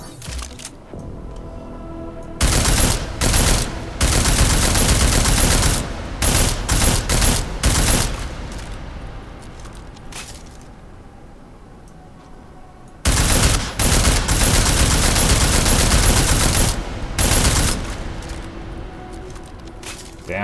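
Deus Ex: Mankind Divided gameplay with two long, loud stretches of dense automatic gunfire, broken by short pauses and scattered single shots, then a quieter gap before the second burst.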